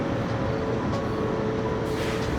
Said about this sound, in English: There's a truck back there